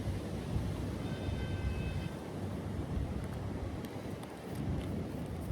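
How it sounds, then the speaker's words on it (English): Wind blows outdoors, buffeting the microphone with a steady low rumble and gusty whooshing that swells and eases throughout. "I need to be a little bit mindful of the wind here."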